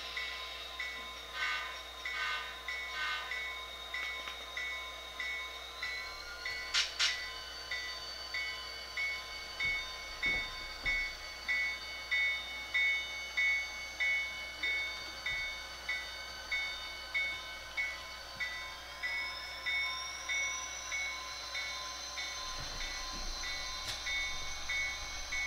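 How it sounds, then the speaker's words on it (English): A model train runs on a layout track near the Sherwood yard of a model railroad, with a steady rhythmic clicking of wheels over rail joints, a continuous motor whine and a brief horn-like tone partway through. "our train will now return to its origin, and will go back long end first"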